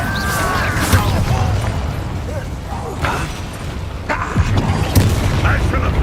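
Fiery Incendio spell blasts in the Hogwarts Legacy video game, booming bursts with crackling impacts that recur across the span over dense game sound and voices.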